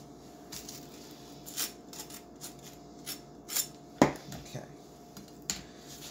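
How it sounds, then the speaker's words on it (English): A knife spreads butter across toast, giving close, dry scraping strokes in an irregular rhythm with a few sharper clicks, some louder than others. "spread the butter on your toast"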